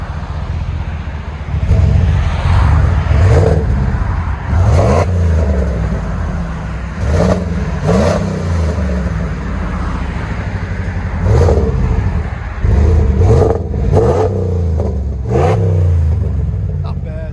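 A RAM 1500 pickup's 5.7L HEMI V8 revs repeatedly through an aftermarket exhaust (Flowmaster Super 10 versus 14-inch Magnaflow comparison, three resonators), loud and close, with deep rumbling blips rising and falling over a steady idle.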